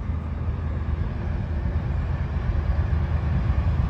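CSX freight train heading northbound on the old B&O line in southwest Ohio, a continuous low rumble of rolling wagons that grows slightly heavier as it nears.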